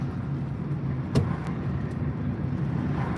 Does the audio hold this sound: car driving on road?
yes